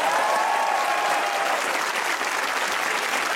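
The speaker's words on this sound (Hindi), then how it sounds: "तो बजाइए तालियां" Steady, dense applause from a large comedy show studio audience, loud and continuous throughout with no voices on top.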